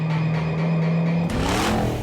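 A 1000 hp methanol-injected, modified American car engine at wide-open throttle, a loud steady drone that jumps into a harsher, rougher roar partway through.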